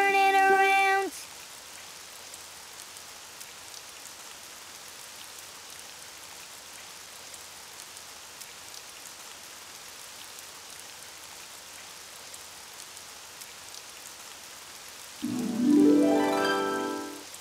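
Steady rain falls outside, a soft continuous hiss of drops that runs through the whole stretch, with short musical and voiced bits at the start and end.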